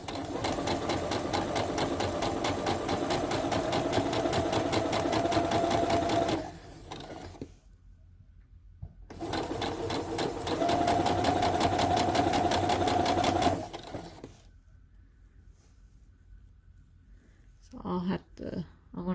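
A sewing machine stitches layered tulle into ruffles, running in two long steady bursts of fast, close mechanical whirring separated by a pause, with faint handling afterward.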